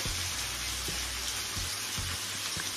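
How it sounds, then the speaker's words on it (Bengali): Paneer pieces fry in a pan with salt, pepper and cornflour, giving a steady, loud sizzle with a few soft stirring knocks underneath. "এটা নুন আর গোলমরিচের গুঁড়া আর কর্নফ্লাওয়ার দিয়ে এটাকে ফ্রাই করব"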